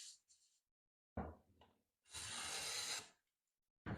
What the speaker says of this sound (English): Freehand sharpened it flat and straight, and then put a minor camber on it. See? Now I'm getting full width shaving.